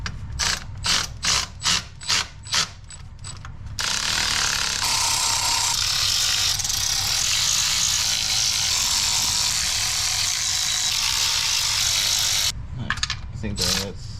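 A power tool drives oil pan bolts on a 2003 Chevy Cavalier in a short burst of rapid ratcheting clicks, then a long steady loud whir. A final cluster of clicks follows.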